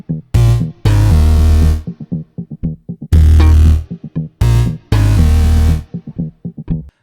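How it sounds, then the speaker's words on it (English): Several synth bass lines stacked into one loud, sustained low riff, playing in repeated rhythmic phrases with short stabs between longer held notes, alone and up front. "All the basses together sound like this."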